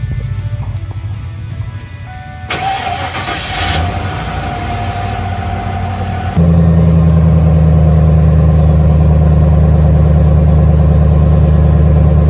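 An old Ford car engine cranks and catches in a garage, settling into a loud, steady low idle rumble that runs on evenly after a rough start.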